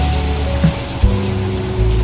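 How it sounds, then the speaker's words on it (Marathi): Water is poured into a pot of prawn masala gravy in a home kitchen, with a steady close rushing pour over about two seconds and no talking. "पाणी टाकून दिले आईने"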